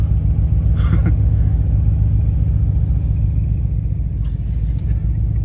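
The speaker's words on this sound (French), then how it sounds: "Tous les 45 secondes, il y a une voiture qui décolle." A sports car taking off on a closed road, a loud, close continuous engine rumble that holds steady throughout, with brief higher bursts of noise layered on top and no talk.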